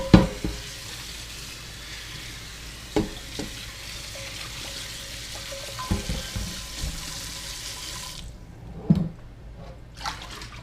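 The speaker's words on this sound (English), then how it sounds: "You can almost wipe it out with a clean rag and some hot water." Hot tap water runs and splashes as a cast iron pan is rinsed at a sink, making a steady hiss broken by a few clanks, until the flow cuts off near the end.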